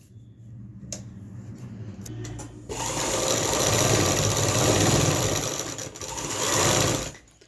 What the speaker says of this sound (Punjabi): ਜਿਸ ਤਰ੍ਹਾਂ ਨਿਸ਼ਾਨ ਲੱਗੇ ਨੇ ਇਹਦੇ ਉੱਪਰ ਆਪਾਂ ਨੇ ਸਲਾਈ ਲਾ ਲੈਣੀ ਹੈ